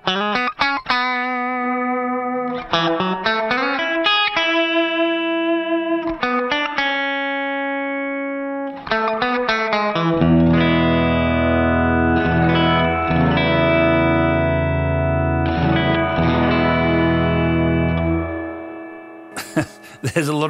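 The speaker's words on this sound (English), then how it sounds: "It will let me select whether I want to play dry over the top or keep feeding the reverb signal into itself." Guitar played through a Cusack Music Resound V2 reverb pedal in cascade mode, the reverb fed back into itself: plucked chords and notes swell into long, dense sustained washes that ring on behind the playing, with no voices.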